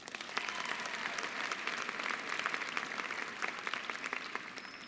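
Sustained audience applause fills the hall at a 2017 Mountain View High School graduation, a dense steady patter of many hands clapping at close range throughout, with no talk over it.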